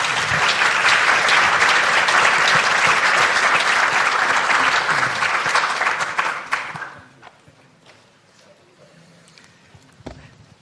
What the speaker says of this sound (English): would you please put your hands together for the panel